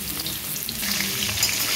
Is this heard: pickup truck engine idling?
no